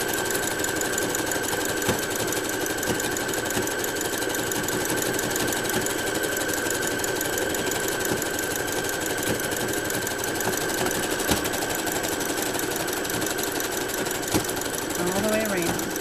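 A sewing machine runs steadily, stitching a ruffle onto pants with an on-off stitch pattern, its even mechanical whir continuous and close throughout.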